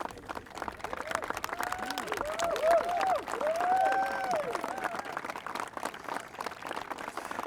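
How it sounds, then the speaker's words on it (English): Steady applause from a large audience at a groundbreaking for a new park and AIDS memorial, dense clapping throughout with a voice briefly rising above it midway. "you should really applaud them"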